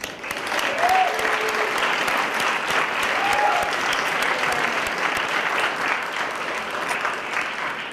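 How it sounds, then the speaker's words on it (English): A crowd at the Boston Cultural Council 2019 grantee reception in Boston gives a steady, full round of applause that stays dense and sustained throughout, with faint murmuring underneath. "Can we give them a round of applause?"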